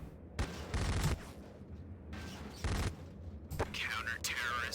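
Three rapid bursts of video game gunfire, each a dense rattling volley lasting under a second, separated by brief quieter gaps.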